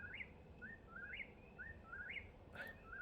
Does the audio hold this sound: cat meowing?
no